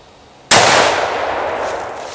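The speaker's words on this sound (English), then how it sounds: "now I'm going to shoot the old school way like I grew up shooting" A single loud, close crack from an unsuppressed .308 rifle firing regular ammunition, followed by a long echoing decay.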